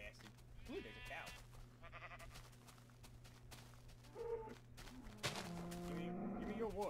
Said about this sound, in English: Let's go kill some sheep. Get their wool.